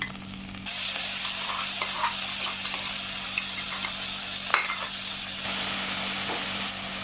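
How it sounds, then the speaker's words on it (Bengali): A spice paste of onion, garlic and green and dried chilli fries in a pan, making a continuous loud sizzle with scraping stirring sounds and a clatter near the middle, with no voices. "আমি এভাবে মশলাটাকে ভেজে নিব বড়ার জন্য"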